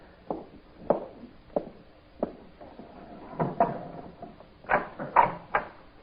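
A door is handled and opened after a knock, with scattered wooden clunks, creaks and shuffling steps close by, spread irregularly and growing busier toward the end.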